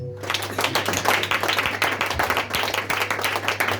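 A church congregation claps together in sustained, dense applause, loud and steady throughout with a low hum underneath and no clear talk.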